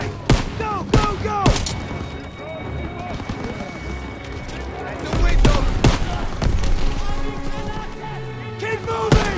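Machine guns firing from a barn during a 1944 World War II battle in Call of Duty WW2, dense rattling bursts and booming impacts throughout, with soldiers shouting over the combat.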